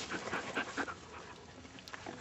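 A female dog pants quickly and rhythmically at close range on a riverside beach, in soft, breathy bursts that fade into quieter breathing toward the end.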